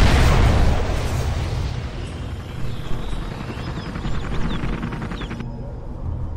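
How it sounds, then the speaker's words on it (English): A Particle Cannon superweapon strike in Command and Conquer Generals opens with a loud booming blast, then a rumbling roar and sweeping beam whine that fade over several seconds. "Particle cannon activated."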